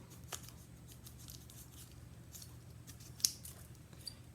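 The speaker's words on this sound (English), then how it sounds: "So I'm going to cut this down just like that." Scissors cut down a plastic zipper lock bag in a few quiet, crisp snips spaced over several seconds, one sharper than the rest, against a low background hum.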